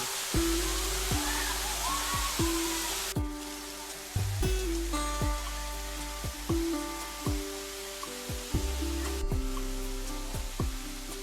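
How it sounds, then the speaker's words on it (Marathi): Water rushes steadily at Nhavankond waterfall, a dense constant roar that continues throughout, with brighter tonal sounds and sharp clicks layered over it partway through. "पाणी मस्त व्हावता"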